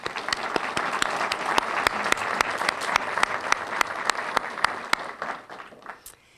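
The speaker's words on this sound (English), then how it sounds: "So a round of applause for these students" Steady applause from a crowd at a college Phi Theta Kappa induction ceremony, dense clapping that holds evenly for several seconds before tapering off at the end.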